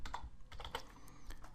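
Quick, irregular keystrokes tap on a computer keyboard, close and fairly soft, a short burst of clicks with no voices.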